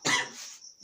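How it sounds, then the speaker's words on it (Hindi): A single harsh cough bursts out loud and close from a woman who is unwell, trailing off into a short breathy tail with no talk around it. "थोड़ी खांसी आ रही है"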